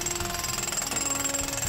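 A drill bores into rock at a gold mining site, a steady loud mechanical hammering rattle that runs continuously from start to finish, with no voices.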